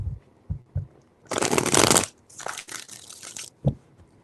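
Tarot cards shuffled by hand during a reading, a few soft riffling bursts with a long dense flutter in the middle, close and fairly loud, with quiet thumps around it.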